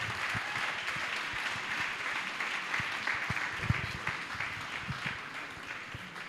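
An audience at an international conference applauds, a dense, steady wash of many hands clapping throughout, loud and even with no voices on top.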